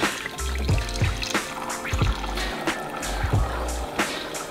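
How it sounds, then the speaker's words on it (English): Tap water running into a large 240 cm wall-mounted aquarium, a steady liquid pour with intermittent low thumps and drips, fairly close and continuous, with no talking. "When I open it, the water is coming."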